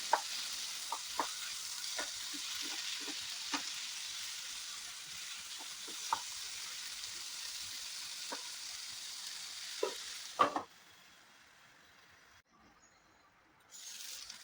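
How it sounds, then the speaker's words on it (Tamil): Chopped onion and large tomato pieces sauté in a pan, a soft continuous sizzle broken by scattered stirring scrapes and clicks, fading out abruptly near the end as the heat cuts off. "இப்போ வந்து ஒரு பெரிய சைஸ் தக்காளியை வந்து இந்த மாதிரி பெருசு பெருசாக கட் பண்ணி போட்டுக்கிறேன். இதுவும் வந்து நல்லா வதங்கட்டும்."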